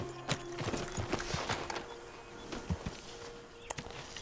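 Horse hooves clip-clop in the video game Red Dead Redemption 2, uneven hoof strikes at a walking pace with faint background ambience and no talking.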